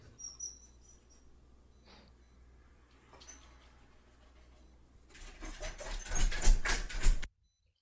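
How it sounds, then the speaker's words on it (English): A dog with separation anxiety, left alone at home, makes faint whines and soft pacing sounds in a quiet room, then near the end a louder burst of rapid panting and scrabbling before the sound cuts off. "Pacing and whining. Panting."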